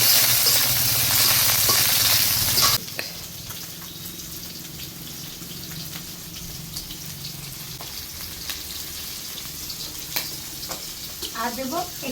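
Prawns and green chillies hit hot oil with a loud, dense sizzle that drops after a few seconds to a steady, softer frying crackle, with brief faint voices.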